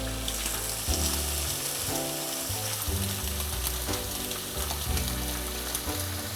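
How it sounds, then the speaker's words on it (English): Crab cakes fry in a little oil in a non-stick skillet over medium heat, producing a continuous crackling sizzle with a low hum running beneath it. "I'm using a non-stick skillet, but I did put a little oil in there."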